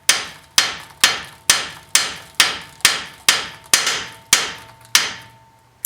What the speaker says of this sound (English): I want to hammer in this side right here.